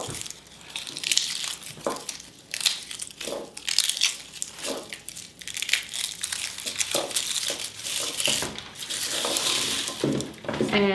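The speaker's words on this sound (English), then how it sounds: "we're just gonna start by taking these garlic cloves out of the head here" A head of garlic is pulled apart into cloves by hand, giving close, dry crackling and crunching with papery crinkles in irregular bursts and a few light knocks.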